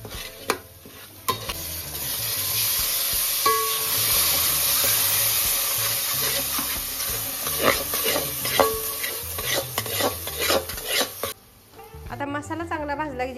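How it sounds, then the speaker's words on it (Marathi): Ghati masala roasts in oil with a continuous sizzle broken by repeated scraping stirs, then a louder burst of hissing near the end. "आता मस्त पैकी मसाला तेलात भाजून घ्यायचा"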